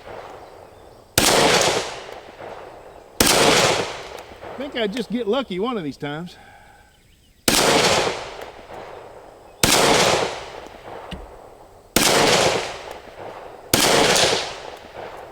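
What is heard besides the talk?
Glock 20 SF 10mm pistol gunshots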